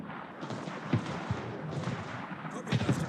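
Battleship guns fire shells in the World of Warships naval combat game, a few dull booming salvos rolling under continuous in-game noise and low rumble.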